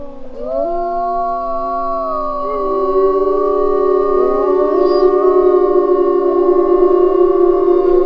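A big pack of arctic wolves howling at a zoo, several long, overlapping, gliding howls layered into a loud, sustained chorus with nothing else heard.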